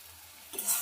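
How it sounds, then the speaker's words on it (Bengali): Spice masala frying in a pan over medium gas for a Bengali egg curry, a faint steady sizzle that swells into a brief bright stir at the end, with no talking. "গ্যাসটাকে মিডিয়ামে রেখে মশলাটাকে ভালো করে কষিয়ে নেব"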